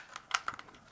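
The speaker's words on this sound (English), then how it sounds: "just peel it off till you get back here." Plastic stock of a cheap dollar-store toy gun being pried and peeled apart by hand, giving a few sharp close-up cracks and snaps with small scraping clicks between them.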